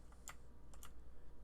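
Computer keyboard keys pressed while playing the puzzle game The Pedestrian: a few quiet, crisp clicks, one single tap then a quick pair, over a low steady background hum with no talk.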